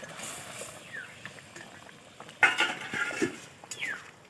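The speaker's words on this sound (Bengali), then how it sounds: "দেখো ঝোলটা ফুটে গেছে।" Silver carp fish curry broth boiling in a pot, giving a soft, low-level bubbling and simmering with a few brighter pops, heard alone without talk.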